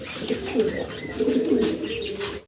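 A pair of gray-barred Lahori pigeons coo close by, soft throaty rolling calls rising and falling in a couple of bouts over faint background noise.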